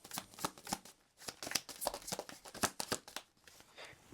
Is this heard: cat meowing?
no